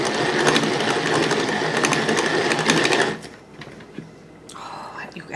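A Tupperware Whip N Mix hand whisk whips dalgona coffee, its rapid loud churning and rattling running continuously for about three seconds before stopping, with faint handling noises afterward.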